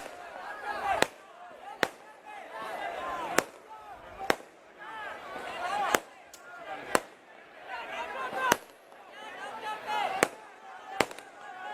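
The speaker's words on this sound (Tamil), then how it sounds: "தம்பி எதுக்குப்பா பட்டாசு வைக்கிறீங்கப்பா?" Firecrackers set off at a Tamil political rally, about a dozen sharp loud bangs at irregular intervals of roughly a second, cutting through a man's continuous amplified speech.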